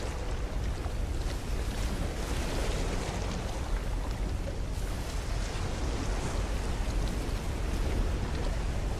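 Ocean waves crash and roar without pause in No Man's Sky, a dense, loud and steady wash of surf and wind with no speech.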